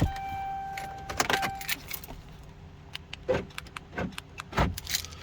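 A locksmith's set of five keys jangles in several bright, metallic bursts, close and loud, with faint vehicle sounds in the background.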